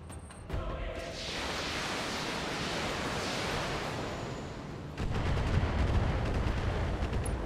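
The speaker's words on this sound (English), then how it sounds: "all of those rockets missed, and those were probably coming from the turrets" Rockets streaking toward a mech in the BattleTech strategy game, a steady roaring whoosh of launches and impacts that swells and then intensifies into a heavier rumbling barrage, fairly faint overall with no speech.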